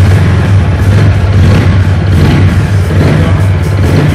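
TVS Apache RTR 200 4V ethanol-fuelled motorcycle engine running steadily, close and loud with a constant low drone and no clear rev changes.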